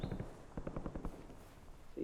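Gunfire in the battle royale video game Call of Duty Warzone at Verdansk, a run of quick, moderately loud shots in an uneven burst, with no speech over it.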